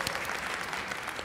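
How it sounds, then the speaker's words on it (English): Steady audience applause at a PAX Unplugged 2023 convention panel, a dense wash of clapping filling the whole moment without a break. "Clap for him first."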